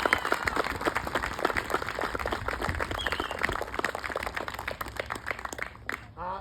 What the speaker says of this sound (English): how about an enormous round of applause for this artillery crew